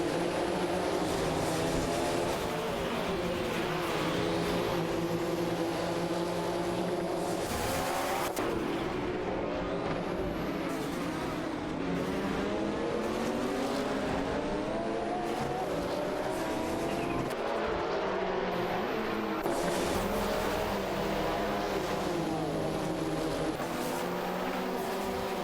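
Race cars including an Oldsmobile Cutlass SCCA and a Porsche 961 LM roar continuously at high revs, engine tones rising and falling through gear changes as cars pass, loud and sustained.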